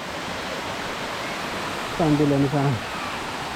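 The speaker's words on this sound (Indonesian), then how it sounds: "Ini ada air terjun yang kecil nih." Small waterfall on a forest trail near Taenu, Ambon, giving a steady broadband rush of water throughout, with a brief voice speaking over it midway.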